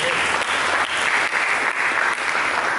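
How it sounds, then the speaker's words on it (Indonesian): A church congregation bursts into strong, continuous applause during a sermon, dense rapid clapping from many people filling the hall loudly and evenly from start to finish. "Berikan tepuk tangan bagi Tuhan"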